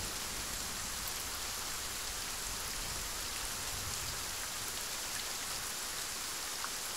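Steady heavy rain falls continuously, a dense even hiss of drops on surfaces with no voices, close and enveloping throughout.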